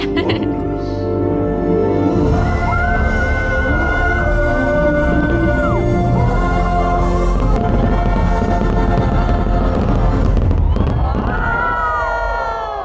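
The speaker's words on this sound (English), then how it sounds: "After the fireworks show ended" Dense crackling and booming of a Disneyland fireworks show over a loud, continuous crowd din, with music-like tones and cheering swelling near the end.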